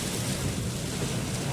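Steady rain drums on a moving car during a dark evening drive, a dense, even hiss and patter heard from inside the vehicle with a low rumble beneath, moderately quiet and unbroken.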